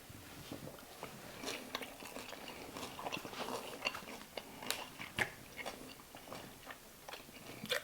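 Someone bites into and chews pan-fried cold smoked porterhouse steak cooked medium rare. Close, crisp crunching and wet chewing repeat irregularly for several seconds with no talking.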